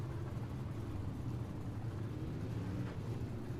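UMP Modified race car engines idling on the grid at Limaland in the iRacing game, a low, steady rumble of several engines blended together, fairly quiet and unchanging, with no voices.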